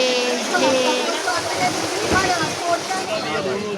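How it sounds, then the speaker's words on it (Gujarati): Steady rain falls in an outdoor street setting, a constant broadband hiss of drops under continuous talking voices close by. "વરસાદ આવે છે"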